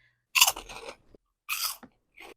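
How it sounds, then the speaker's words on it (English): Black pepper pork rinds crunch loudly and close up in three bites or chews, with brief silences between them. "And listen to this crunch."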